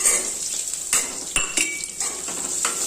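Onion hits hot oil in a pan already holding fried lentils, red chillies and asafoetida for a chutney, sizzling steadily and close, broken by a few sharp clinks and scrapes of a spoon against the pan.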